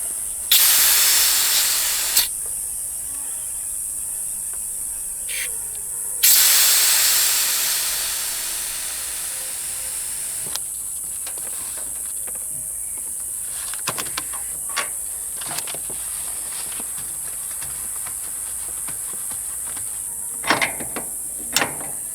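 Refrigerant lines of an outdoor mini-split unit being pressurized give two loud bursts of gas hiss, each fading away, followed by quieter clicks and handling noises.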